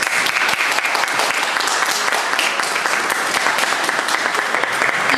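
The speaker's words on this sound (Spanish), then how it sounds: "para quien pido un fuerte aplauso." An audience in a lecture hall breaks into loud, dense applause after a talk on jurisdiction and legal process, a continuous close wash of many hands clapping for several seconds.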